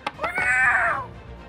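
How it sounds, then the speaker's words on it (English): A single drawn-out cat meow, loud and close, rising then falling in pitch and holding for about a second before fading out, with no one talking over it. "The crazy cat is after me."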